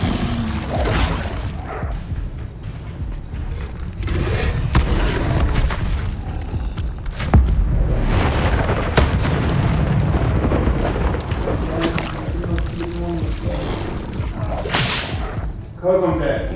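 The Incendio fire spell goes off in a Harry Potter video game: loud whooshing, whip-like bursts and booming blasts come in repeated waves, dense and close throughout.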